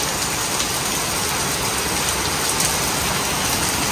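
Heavy typhoon rain pours steadily during Typhoon Uwan, a dense, unbroken hiss that stays loud and close from start to finish with no voices over it.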